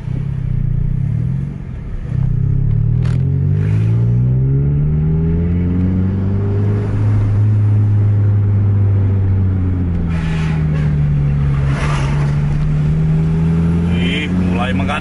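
Aerobus and Harapan buses race each other with engines revving loudly nearby, a heavy rumbling drone rising and falling in pitch as they accelerate, while a voice talks over it.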